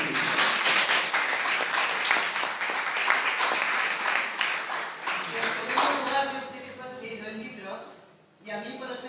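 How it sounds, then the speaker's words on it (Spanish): Audience applause at a talk honoring women, dense steady clapping that fills most of the stretch and fades near the end, with a voice speaking over the tail. "Un aplauso."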